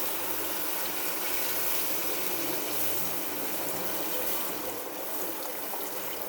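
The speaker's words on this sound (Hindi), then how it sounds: "अब डाल देंगे हम पानी" A steady, loud rush of water poured into a cooking pot for potato tahiri with rice, continuous splashing and gushing throughout with no pauses or talk.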